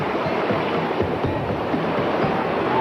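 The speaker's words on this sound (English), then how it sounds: "Got a couple of good waves in here, actually." Ocean waves wash and rumble steadily around a paddled boat, a continuous broad surf sound with some wind noise, close and fairly loud with no talking.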